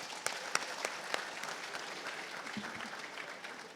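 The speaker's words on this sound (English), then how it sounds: "Please, a round of applause for them." Audience applause at a technical conference session, a sustained wash of many hands clapping with a few sharper claps standing out early on, moderately distant and fading slightly toward the end.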